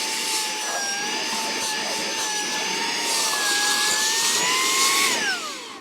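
Saker 3-in-1 cordless vacuum cleaner running steadily at close range, a loud whining motor hum with a shifting pitch that rises slightly before spinning down at the end.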